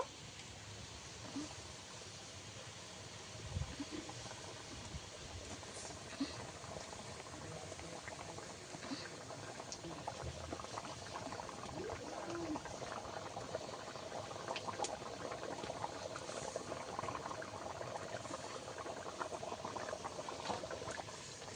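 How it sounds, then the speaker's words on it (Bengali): Spicy fish curry gravy bubbling in a pan, a soft continuous boil with many small pops and gurgles, close but quiet, with no talking. "ঝালের ঝোল ভালোভাবে ফুটে গেছে।"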